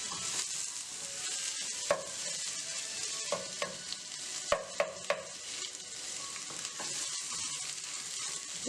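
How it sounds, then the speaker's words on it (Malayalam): Egg, paneer and vegetables frying in a pan for paneer fried rice, a steady close sizzle with scattered scrapes and taps of a spoon stirring through it, no voices. "ഇനി നമുക്ക് നമ്മൾ ചിക്കി വെച്ചിരിക്കുന്ന മുട്ടയും പനീറും ഈ വെജിറ്റബിൾസിലേക്ക് ആഡ് ചെയ്ത് കൊടുക്കാം."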